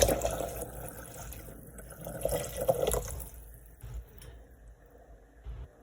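Water runs into a cooking pot for homemade vegetable broth, a close splashing pour that is strongest at first and then thins into a softer trickle and fades.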